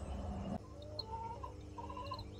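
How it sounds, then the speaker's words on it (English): Backyard hens clucking loudly and continuously at close range, a busy flock with bright repeated calls and no talking. "You're such a loud chicken."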